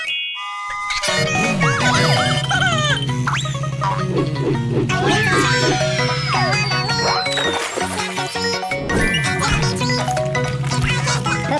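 A cartoon police car siren wails in a bright, toy-like tone over a bouncy children's music track, loud and continuous with playful boing effects.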